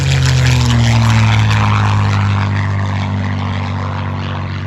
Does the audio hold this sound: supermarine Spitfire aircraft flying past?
yes